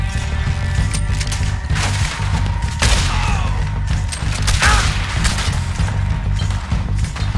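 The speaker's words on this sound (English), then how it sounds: "Somebody's shooting me from there." Gunfire in Red Dead Redemption 2 amid a busy outdoor game scene, with scattered shots and crashing impacts over a steady low rumble of music and ambience, no talking.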